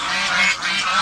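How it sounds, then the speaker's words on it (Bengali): Geese on a farm let out a quick burst of loud, nasal honking, close by and alone for about a second. "অনেকগুলো রাজহাঁস"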